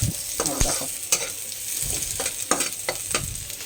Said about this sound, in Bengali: ডালটা সাঁতাল দেওয়ার জন্য একটুখানি লঙ্কার হালকা একটু পেঁয়াজ নিয়েছি